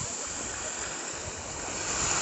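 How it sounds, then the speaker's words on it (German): Mediterranean Sea waves wash in a steady broadband roar with no distinct breaks, close and fairly loud, with some wind buffeting the microphone. "Welche Wellen schlagen."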